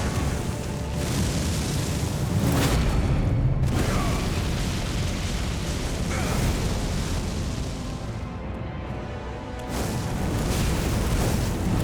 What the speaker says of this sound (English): let's have dueling explosions and see who wins